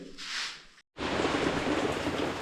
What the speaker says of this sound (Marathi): पावसाने मंडळी जोर वाढवला